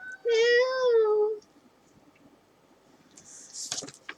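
A single drawn-out cat meow rings out clearly, followed by quiet and then a brief rustling clatter nearby.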